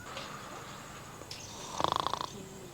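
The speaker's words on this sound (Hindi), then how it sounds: "अपने देखा खर्राटा लेता है" A sleeping man snores in a comedy skit set in a classroom, letting out a single faint, rattling snore over quiet background noise.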